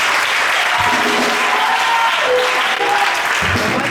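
An audience in a French-speaking church vigil applauds to acclaim Papa Kadim, with steady, dense clapping filling the room throughout, with some scattered voices and a few tonal notes underneath.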